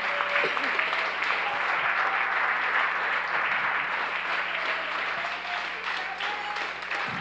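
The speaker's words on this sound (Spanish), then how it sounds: "Hazlo fuerte el aplauso al Señor." A church congregation claps for the Lord during a sermon: steady, dense applause from a large crowd runs continuously and fairly loud for several seconds, with a faint crowd murmur underneath.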